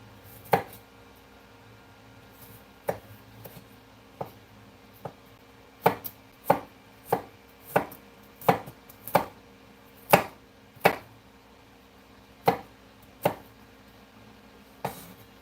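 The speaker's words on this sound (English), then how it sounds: "I'm just cutting up my garlic into little pieces" Garlic being chopped into little pieces with a knife on a board, giving sharp, isolated cuts, sparse at first and then a steadier run of about a dozen crisp knocks, near and fairly quiet.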